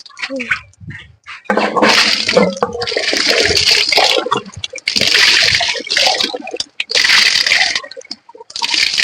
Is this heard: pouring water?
yes